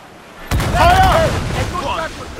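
Ship cannons boom in the Assassin's Creed IV Black Flag naval battle, a sudden heavy blast followed by rumbling and rolling echoes, with shouting voices over the barrage.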